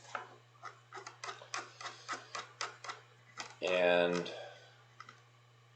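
An equation is typed into the Desmos calculator on a keyboard: about a dozen distinct, evenly spaced key clicks, followed by a brief spoken word and one or two final taps.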